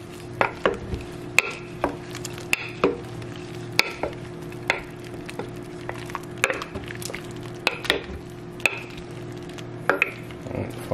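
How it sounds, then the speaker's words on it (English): A crockpot meal is stirred by hand, giving repeated spoon knocks and scrapes against the pot at an irregular rhythm. Each sharp tap stands over a low steady hum, nearby, with no talking. "Gonna give it a little stir."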